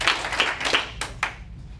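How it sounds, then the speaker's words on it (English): Hands clapping in short bursts, several sharp claps spaced about a third of a second apart, fairly close and moderately loud, with no talking over them. "Clap twice. Clap 3 times."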